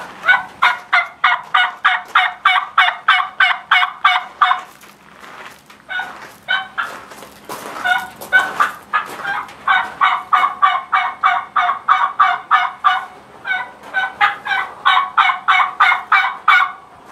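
Turkey call imitating a hen's plain yelp at an open division turkey calling contest, a rapid rhythmic series of loud, close yelps in repeated runs with short pauses between them.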